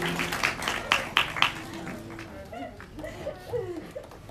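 An audience at a primary school function gives a short burst of scattered clapping for guests, which quickly dies away into background chatter and voices.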